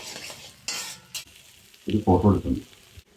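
Egg is scrambled and fried in a pan, with a few short bursts of scraping stirring and sizzle, followed by a person talking.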